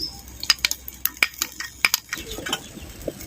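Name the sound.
stirring curd into green chilli mutton curry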